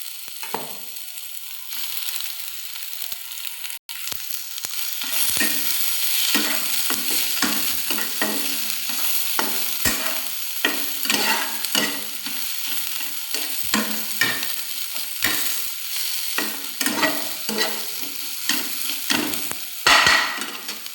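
Boiled potatoes are stirred and fried in a pan, giving a steady sizzle broken by repeated scraping and clacking strokes of a spoon, close and continuous with no talking.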